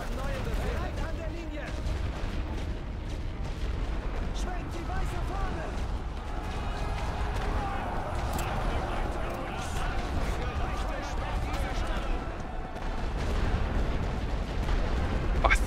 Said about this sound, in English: And where's more artillery, because we're getting shredded by machine guns